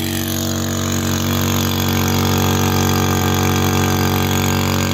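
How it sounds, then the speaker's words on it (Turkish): A small one-inch two-stroke motor coupled to a water pump runs steadily with a constant droning hum, loud and close throughout, no voices. "Bir parmak motorun verimi bu kadar."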